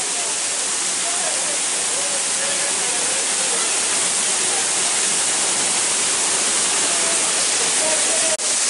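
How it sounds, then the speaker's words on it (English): A waterfall near Fort Portal in Uganda gives a steady, dense broadband roar that fills the whole stretch evenly, loud and continuous with no clear breaks. "This is a waterfall."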